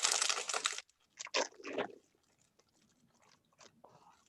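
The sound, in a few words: chewing crunchy oven-baked spicy chicken chips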